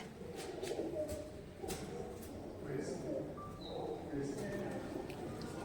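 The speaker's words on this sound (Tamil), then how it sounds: "இங்கே எக்கச்சக்கமான புறா" Pigeons coo softly in a small chamber at the Abhaneri step well, faint cooing and rustling mixed with distant background chatter and a few scattered clicks.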